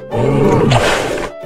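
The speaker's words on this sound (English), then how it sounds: "Bear." A single loud, close bear roar in a children's animal cartoon, one sustained growling call about a second long, standing alone with no talk.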